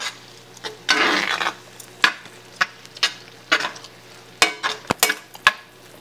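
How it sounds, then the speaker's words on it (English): A utensil stirs hot sauce into a cooking pot, making scraping, clinking strokes close up in irregular bursts with sharp taps against the pot between them. "Then you want to stir the hot sauce in."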